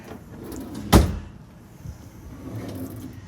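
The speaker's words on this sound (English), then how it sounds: "And then down below we've got some drawers here." A kitchen drawer below the counter is pulled open during a house walkthrough, giving one sharp wooden clunk near the one-second mark over a quiet room with faint low rumble.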